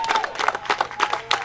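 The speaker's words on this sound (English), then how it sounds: "give him the young people, give him a nice round of applause." Young students clap and cheer at a school backpack giveaway event, a short burst of scattered hand claps and high excited voices from a nearby crowd.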